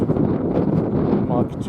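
Strong wind buffets the microphone outdoors at a classic car meet by the Mercedes-Benz Museum in Stuttgart, a steady low rumbling roar filling the short stretch, with a voice speaking over it.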